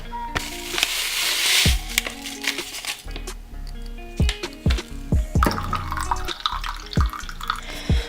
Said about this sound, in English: So I just added some water.